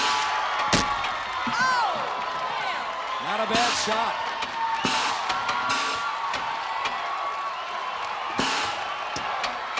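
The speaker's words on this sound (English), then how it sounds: "this crowd here at Gladiator Arena is really wild" An arena crowd at an American Gladiators Assault event roars and cheers continuously, with scattered shouts, whoops and sharp bangs cutting through as a commentator speaks over the noise.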